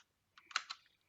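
Short burst of keyboard typing while coding in Roblox Studio, a quick cluster of close clicks lasting about half a second with no talk.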